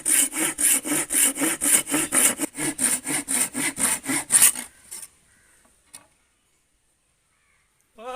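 Hand saw cutting through wood to shape a homemade fish hunting gun, about fifteen quick, even rasping back-and-forth strokes up close, then the sawing stops and only faint taps follow.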